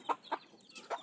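A hen makes a few soft, close clucks in short separate bursts, kept near her small chicks on a poultry farm.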